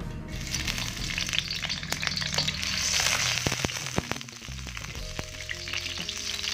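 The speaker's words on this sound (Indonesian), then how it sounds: "Kita panaskan minyak. Kita masukkan bawang merah," Oil sizzles and crackles steadily as shallots fry in a pan, with occasional stirring clinks, close and continuous.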